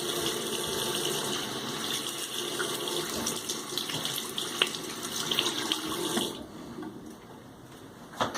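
Tap water runs steadily into a sink while a freshly shaved head is rinsed, a continuous broadband gush with small splashes, close and alone, cutting to a quieter tone near the end.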